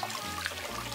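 Hot water trickles and splashes as a face is rinsed after a wet shave, a brief, steady, fairly soft flow of running water close by with no talking.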